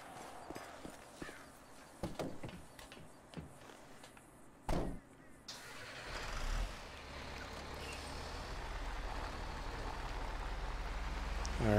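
Diesel rumble of a Peterbilt semi truck starting up in GTA 5, rising into a steady low idle that swells louder toward the end, after some scattered clicks and knocks.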